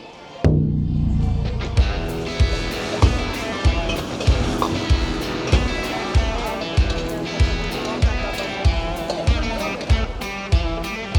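Regular drum hits thump out at a steady beat over a busy background of other instruments or voices, loud and close, among people in folk costumes in Zhangjiajie, China.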